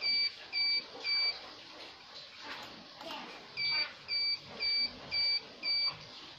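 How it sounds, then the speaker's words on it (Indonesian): Short electronic beeps from a Fardriver ND 72260 electric vehicle controller repeat in two clusters, three quick tones, a pause, then five more, over a faint background hiss. "Ini masih bunyi bip karena memang"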